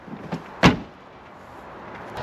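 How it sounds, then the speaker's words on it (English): Boot lid of a Volkswagen Passat B5.5 pulled shut by its small grab handle, giving one sharp close-range thud after a couple of soft handling knocks, then quiet cabin-like background. "And of course you got this little grab handle here to close the boot."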